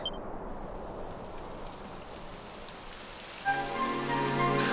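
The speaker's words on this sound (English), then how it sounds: "Typical. It would have to go and start raining, wouldn't it?" Steady rain falls in Dragon Quest XI in a soft continuous hiss of drops, with a gentle musical tone entering near the end.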